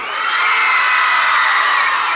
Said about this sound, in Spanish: El grito de todas las mujeres.